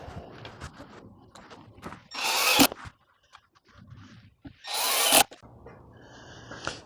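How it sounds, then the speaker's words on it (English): A power drill drives 1-inch pocket screws into a Worx Pegasus work table in two short, loud, close bursts separated by quiet handling noise. "attach it with the 1-inch pocket screws"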